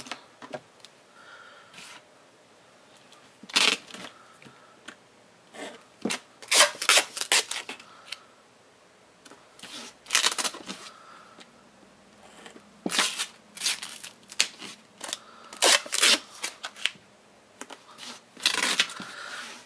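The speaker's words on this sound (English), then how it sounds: "So first you'll need to cut out a whole bunch of strips." Strips of duct tape being pulled and cut for a gift bow: repeated bursts of tearing, crinkling tape, some sharp and close, separated by quiet pauses.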